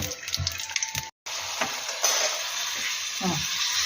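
Bay leaf, cinnamon, green cardamom, cloves and mace sizzle steadily in hot oil while being stirred for a meat curry, a brief break then continuous frying hiss with spoon scrapes, close and loud, no talking.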